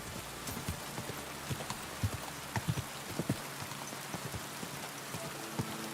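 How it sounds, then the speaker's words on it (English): Horse hooves clip-clop at a steady trot across open wilderness in Kingdom Come Deliverance 2, with sharp, evenly spaced hoofbeats over a soft, constant rain-like hiss and no voices. "We're just out in the wilderness with our horse."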